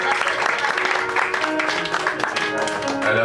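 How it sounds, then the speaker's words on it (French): Audience applause at an evening reading event, steady and fairly loud throughout, with some voices mixed into the clapping. "mesdames et messieurs, on l'applaudit."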